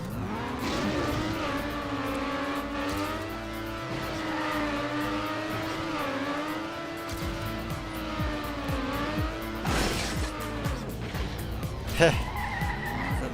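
Race car in a racing video game braking hard, with a steady engine whine that shifts in pitch and tyres squealing and skidding, one brief voice heard over it.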